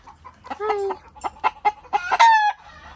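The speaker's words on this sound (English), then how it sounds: "Nice rooster." A rooster on a small Philippine farmstead at the foot of a volcano crows and clucks in a run of short, close, loud calls, ending in a drawn-out crow.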